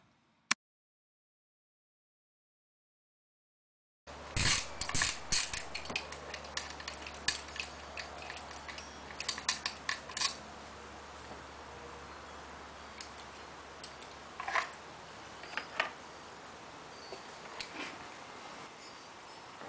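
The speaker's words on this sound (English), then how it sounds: "For these bolts, you want to use the 5mm hex key." A 5mm hex key works on the handlebar bolts of a Ducati Monster 696, producing a string of small metallic clicks and ticks of the tool seating and turning, close and intermittent over a quiet room hum.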